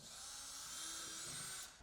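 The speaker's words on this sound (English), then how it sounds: "use a hole saw to drill a 3/4 inch hole at the center dimple" A power drill with a hole saw bores a 3/4 inch hole through the roof of a 2024 Polaris Xpedition off-road vehicle, giving a steady high whine close by that cuts off near the end.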